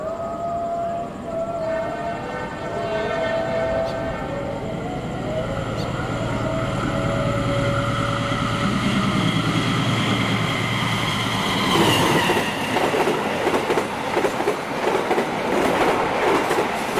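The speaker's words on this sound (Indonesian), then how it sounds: "barusan lewat kereta Bima 60" The Bima 60 passenger train rolls past nearby with a loud, sustained rumble and rhythmic wheel clatter, a horn-like tone sounding early on, and growing hiss and rattle as the carriages go by, with no talking.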